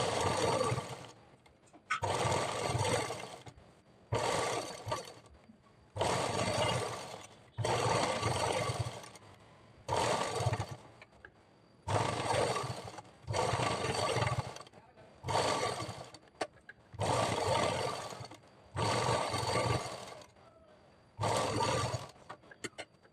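Sewing machine stitching a blouse, running in repeated loud bursts of a few seconds each with short pauses between, a whirring motor with steady needle clatter.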